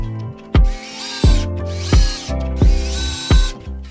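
A screwdriver with a No. 2 Phillips bit drives screws into a tiny handmade skateboard, giving five or six loud, close whirring bursts, each starting with a sharp bite and separated by short pauses.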